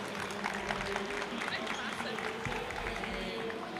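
Light applause from an audience at a youth entrepreneurship stage event, scattered clapping mixed with voices and movement nearby, fairly faint.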